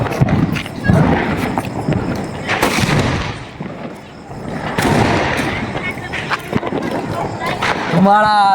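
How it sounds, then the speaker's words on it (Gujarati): Several sharp loud bangs from Sindri bomb firecrackers bursting during Diwali, scattered across the stretch, with people talking throughout. "સિંદરી બોમ્બ ફોડે છે"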